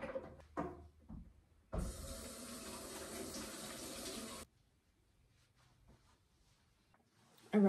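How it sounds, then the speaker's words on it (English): A kitchen tap gushes steadily for a few seconds while hands are rinsed of raw meat, a close, bright splashing that stops abruptly and leaves quiet handling noises. "let's wash our hands because we have meat all over them"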